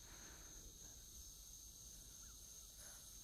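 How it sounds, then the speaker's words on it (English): Crickets chirping outdoors at night, a faint, steady high-pitched trill holding constant in the background with no other sounds standing out. "You can probably hear the crickets."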